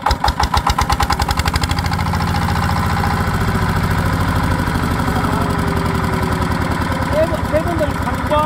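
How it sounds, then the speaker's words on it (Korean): A power tiller's single engine cranks and fires with a loud, rhythmic chugging that quickly steadies into a close, heavy idle with a knocking pulse, while people talk faintly over it. "두 번에 시동 걸어볼게"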